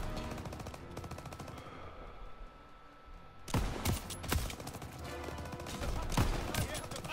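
Gunfire in the Call of Duty WWII campaign mission Operation Cobra: after a quieter stretch, several sharp close shots and bursts break in over a continuous battle din, with a voice speaking now and then.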